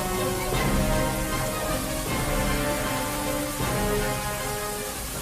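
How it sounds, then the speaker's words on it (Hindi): Steady, dense downpour of heavy monsoon rain in Jaipur hissing continuously across the whole clip, with a faint tonal hum underneath. "मूसलाधार बारिश के बाद जयपुर की सड़कों पर सैलाब आ गया।"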